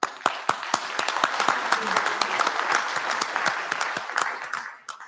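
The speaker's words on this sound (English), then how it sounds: "there is a lot of clapping" A large audience applauds at an IETF plenary session, with sustained dense clapping that carries on for several seconds before tapering off at the end.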